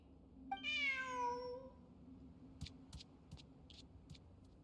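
A cat in a video game gives one clear drawn-out meow, followed by several soft, short ticks and taps against a quiet background.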